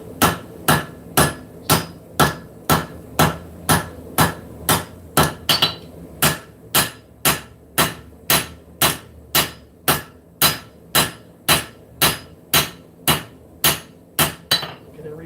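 Hammer forging steel in a knifemaking shop, sharp ringing metallic blows struck in a steady, even rhythm, about two per second, loud and close, with brief pauses.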